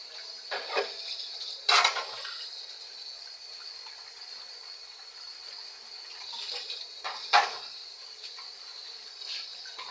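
Kitchen sink tap runs steadily while dishes are washed, a thin continuous hiss of water broken by a few brief splashes and clinks of dishes, close and fairly quiet.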